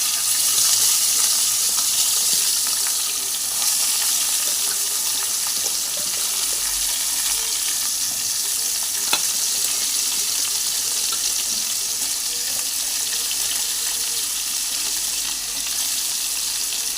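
Stalks of pui shak (Malabar spinach) and potato pieces frying in a pan of hot oil for a home Bengali recipe give a steady, loud, crackling sizzle that runs unbroken and close-up, with no talking.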